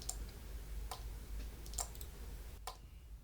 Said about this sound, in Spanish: Y del por qué el relay suena así